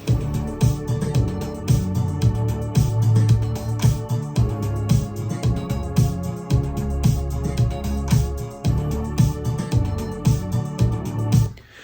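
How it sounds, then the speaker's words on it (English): A busy, steady drum groove with dense cymbal hits and punchy kick and snare beats, playing continuously at a moderate tempo without any voices. "I wanted a different sound of the drum track."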